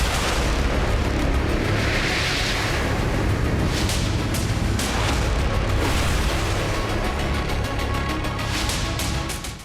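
An explosion at Engels airbase after a Ukrainian drone attack, a loud, sustained roaring rumble with several sharper booming bursts along the way, filling the whole stretch before easing off at the end.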